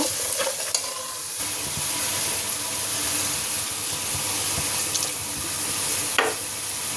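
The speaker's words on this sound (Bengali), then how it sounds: "এবার পটলটা দিয়ে আমি মশলার ভিতর দিয়ে ভালোভাবে কষা নিচ্ছি" Pointed gourd stir-fried with spices in a pan, a continuous loud sizzle with scraping stirring strokes close by, no talking.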